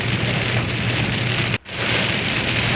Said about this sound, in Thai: นี้ก็จะเป็นบรรยากาศฝนตกจ้ะ